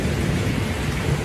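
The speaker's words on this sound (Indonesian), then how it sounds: "Gimik apa lagi tiba-tiba ada hujan, ada gerimis" Steady rain and drizzle effect with a low rumble, a continuous broadband hiss that stays even and moderately loud throughout, with no speech over it.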